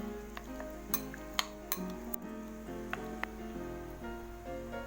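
Ground pork filling for pancit molo being stirred in a bowl, with a steady scraping swish and scattered sharp clinks of a spoon against the dish, close and fairly quiet.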